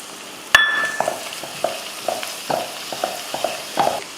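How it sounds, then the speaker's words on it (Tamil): Masala and minced crab sautéing in a pan: a steady low sizzle broken by a sharp metallic clink, then repeated scraping strokes of a spoon stirring the mixture at an even rhythm, close and clear, with no talking. "மசாலா போட்டு நல்லா வதக்கி விட்ருவோம்."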